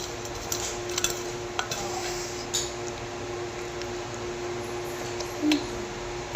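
Food being stirred with oil and salt in a dish, with soft scraping and occasional light clinks of a utensil against the dish over a steady background hum.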